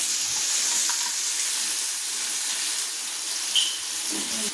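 Onion and tomato with pepper, fennel and salt sautéing in hot oil for egg gravy, giving a steady, soft sizzle that stays even throughout with no talking.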